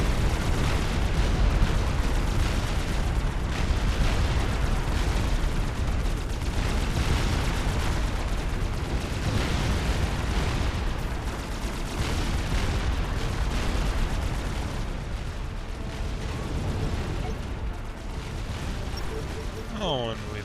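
Big guns fire and explosions rumble on and on in a Supreme Commander real-time strategy battle, a thick, continuous roar of booms and bursts with someone talking over the top.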